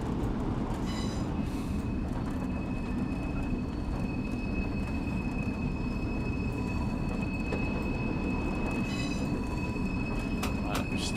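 An Electric Type 3B locomotive rolls along rails with a steady low rumble and rattle, occasional wheel squeals and clicks of track joints, heard from on board with faint talk.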